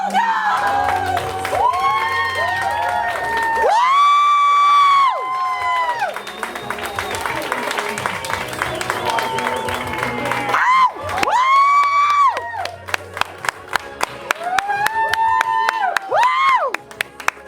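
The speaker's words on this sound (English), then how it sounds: "And applause for George Vogel!" An audience applauds and cheers as a performer is welcomed, with loud whoops and shouting voices rising over crowd noise, then sharp clapping toward the end.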